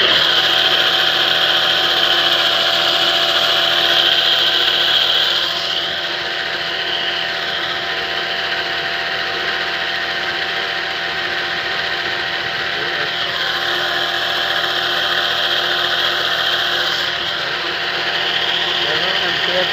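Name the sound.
electric motor running on solar off-grid inverter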